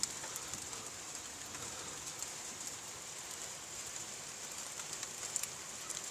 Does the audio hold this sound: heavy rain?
yes